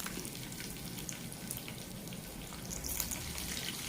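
Green chillies frying in a little oil with fennel seeds and dried red chillies for a vegetable kurma, with a close, steady, rain-like crackle and sizzle throughout.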